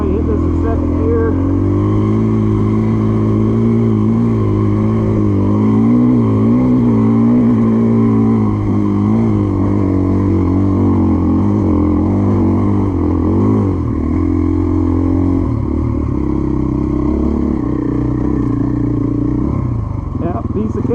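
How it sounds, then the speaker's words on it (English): A 2024 Gas Gas EC450F dirt bike ridden in second gear over a hard-packed rocky trail, its engine droning loudly and steadily close by with small shifts in pitch and some rattling, with talk heard over it. "Probably hit this in second gear."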